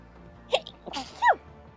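A single person sneezes during a cooperative puzzle video game session, a short sharp burst close to the microphone followed by a brief vocal sound in a quiet room.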